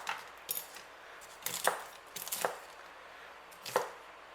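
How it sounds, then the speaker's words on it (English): A spoon cracks a slab of homemade chocolate popcorn into chunks, giving several sharp, crisp snaps and clicks spaced irregularly over a quiet background. "we'll get a spoon and we'll just break it up."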